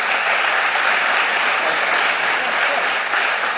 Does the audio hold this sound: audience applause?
yes